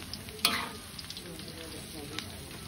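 Krupuk crackers frying in a pan, a continuous soft sizzle with a few sharper crackles and stirring clinks, one louder burst near the start, quiet and close.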